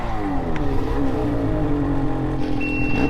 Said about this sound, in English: you want me to hit your gas while you guys lift?